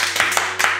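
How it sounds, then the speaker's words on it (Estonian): Brief, sharp hand clapping for raffle winners: a few distinct claps close by, over a low steady hum in the background. "meie teeme siis suure aplausi teile"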